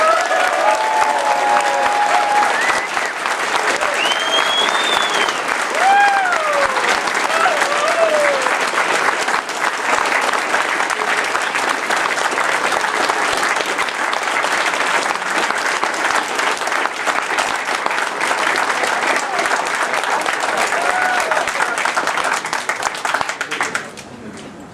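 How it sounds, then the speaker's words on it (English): A large convention crowd at a closing ceremony gives sustained loud applause for volunteers, with dense clapping and a few whoops and whistles early on, holding steady for over twenty seconds before tapering at the end. "can I have a massive round of applause for all the Confuzzled volunteers"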